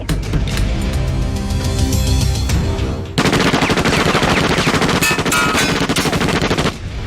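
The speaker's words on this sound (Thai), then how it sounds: "ยิงล่อมันไว้" A staged action-scene shootout fills the clip with continuous loud machine-gun fire in dense rapid bursts, mixed with dramatic music, with a short shift in the middle.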